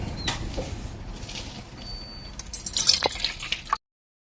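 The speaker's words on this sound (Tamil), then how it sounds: "முதல்ல ஒரு டம்ளர் சுடு தண்ணி எடுத்துக்கலாங்க." Warm water trickles and splashes into a tumbler, with a burst of liquid pouring and dripping near the end before it cuts off abruptly.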